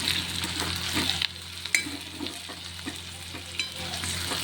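Spices and onion being stirred as they fry in a pan for Nagpuri dal kanda, with a steady close sizzle broken by scraping stirs and occasional clinks, no talking.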